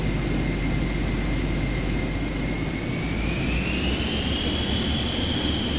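An aircraft taking off in Microsoft Flight Simulator 2024, a loud, steady engine roar with a whining tone that rises gradually in pitch as power builds.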